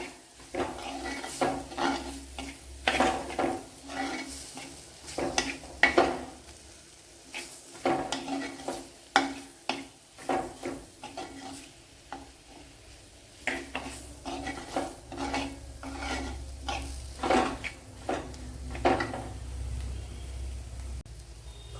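Turmeric powder is stirred and roasted in a pan for a dried fish curry, with repeated scraping spoon strokes against the metal and a soft sizzle underneath, fairly close and steady.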